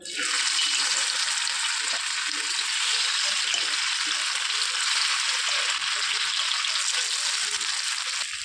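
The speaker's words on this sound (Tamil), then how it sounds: "மீனை வறுத்துக்கலாம்" Fish frying in oil in a pan during home cooking, a steady loud hiss and crackle that runs without a break from start to finish, with no talking over it.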